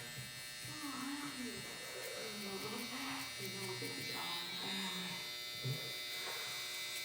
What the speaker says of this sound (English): I'm gonna go ahead and go on with my trimmer now, and I'm gonna hit this bottom line.